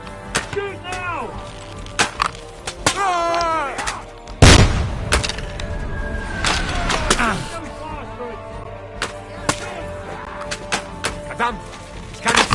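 Cannon and gunfire in the video game Kingdom Come Deliverance 2, a battle with a huge close cannon boom followed by scattered sharp shots, shouting soldiers and combat voices throughout.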